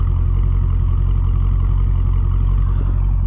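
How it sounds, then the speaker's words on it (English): A deep, steady V8 idle from a Dodge Challenger Scat Pack with stock exhaust, a low burbling exhaust rumble, close and continuous, no voices. "You can hear this beautiful burbling idle."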